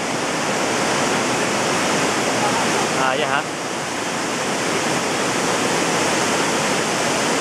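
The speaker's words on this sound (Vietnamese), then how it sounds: "Đang ở thác Atala nè" Atala waterfall roars in a steady, loud broadband wash throughout, with a brief voice speaking over it partway through.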